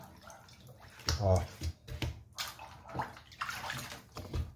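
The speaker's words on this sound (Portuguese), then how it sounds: "Passar uma aguinha." Running water splashes over a gutted tilapia being rinsed before filleting, a close, uneven gush and slosh heard under a man's brief spoken remarks.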